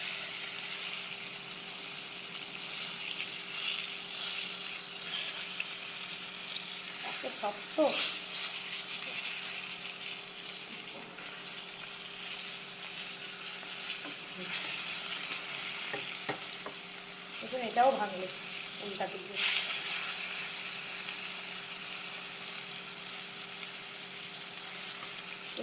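Basa fish frying in a small amount of oil, a continuous close sizzle that runs the whole time while a person talks over it and utensils clink now and then.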